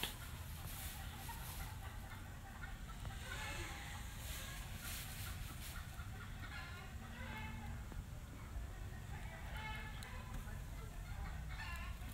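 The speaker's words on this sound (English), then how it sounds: "Those chickens are going crazy." Chickens cluck and squawk busily outdoors over steady background noise, a restless flock heard throughout with no clear speech.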